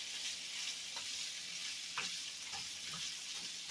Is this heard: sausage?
yes